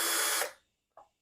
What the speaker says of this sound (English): I'm going to drill the holes for the U-bolt